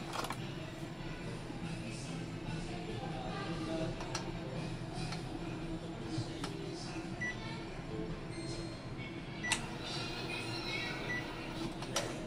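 Epson L850 inkjet printer running a maintenance head-cleaning cycle, giving faint, steady mechanical whirring with scattered small clicks and ticks over about twelve seconds, with no one talking.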